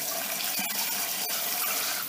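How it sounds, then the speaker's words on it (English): Steady stream of tap water gushing into a sink while a Cornish hen is rinsed under it, a continuous close hiss with small splashy shifts and no voices. "So I'm going to wash this chicken down good,"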